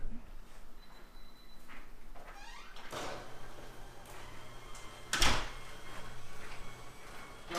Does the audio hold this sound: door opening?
yes